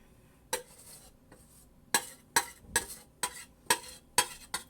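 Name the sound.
spreading meringue on pie in stainless steel pan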